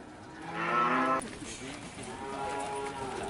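A cow in cattle kept in an oil palm plantation in Lampung gives one loud, drawn-out moo up close, followed by a lower ongoing sound beneath faint background noise.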